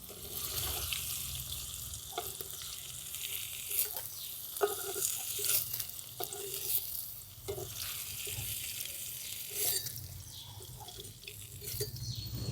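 Paneer cubes sizzle steadily in a hot pan while being fried for a black-pepper paneer dish, with a continuous close hiss broken by brief clinks and stirring knocks.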